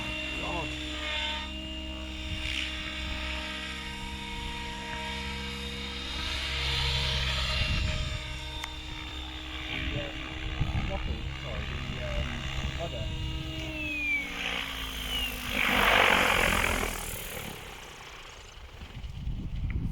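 An Align RC 700 radio-controlled helicopter flies nearby, its rotors and motor producing a steady whine and buzzing drone with layered tones that runs continuously, with occasional voices.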